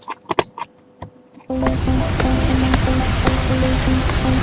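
A steady rushing waterfall sound effect in a Unity game scene kicks in abruptly after a few scattered clicks and thuds, then runs continuously with a faint repeating tone underneath.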